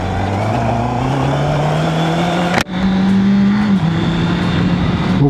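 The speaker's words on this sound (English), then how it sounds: "This is my bike, the 2021 CB 650R." A 2021 Honda CB650R motorcycle on a ride with a stock exhaust, its engine droning steadily with rising and falling pitch, loud and close throughout, with a brief dip in the middle.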